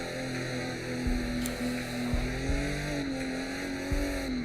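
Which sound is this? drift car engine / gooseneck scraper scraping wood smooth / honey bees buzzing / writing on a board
drift car engine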